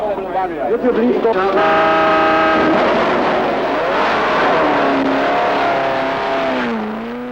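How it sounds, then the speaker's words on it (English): 1967 Formula 1 and Formula 2 race cars at the Nordschleife, Germany, roaring past with a loud high engine wail that climbs and sweeps in pitch, a narrator talking over the racing noise. "The first 3 Formula 2 cars are 29 Ickx, 24 Oliver"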